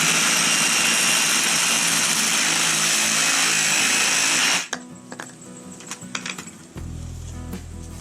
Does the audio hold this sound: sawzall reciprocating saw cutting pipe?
yes